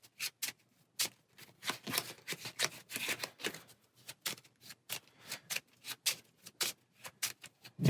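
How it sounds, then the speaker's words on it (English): A deck of playing cards shuffled by hand for a Marvel Champions card game, a rapid run of crisp riffling bursts and soft slaps repeating steadily for several seconds, close and alone with no talk. "So these are going to get shuffled."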